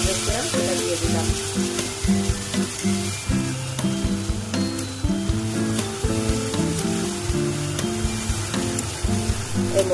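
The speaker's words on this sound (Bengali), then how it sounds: "3টে তেজপাতা, 1টা শুকনো লঙ্কা আর গোটা জিরে ফোড়ন দিলাম।" Bay leaves, a dried red chili and whole cumin seeds sizzle and crackle steadily in hot oil, frying close by with no talk, while a music bed plays underneath.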